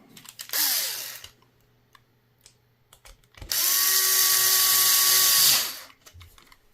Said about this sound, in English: now it's just a matter of putting the screws back in.